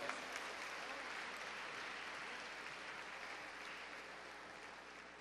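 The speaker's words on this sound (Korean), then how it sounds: "이름도 예쁜 작은 평화예술단 어린이들에게 다시 한번 큰 박수" Steady applause from a ceremony audience for a children's peace art troupe at a commemoration of the 10.4 inter-Korean summit declaration, fairly faint and even throughout, with a few voices mixed in.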